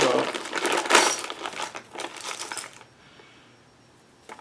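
Metal hinge bolts from a Barricade rooftop hardware kit for a Jeep Wrangler TJ clink and rattle together as they are handled, close and busy for about three seconds, then go quiet apart from one last tap.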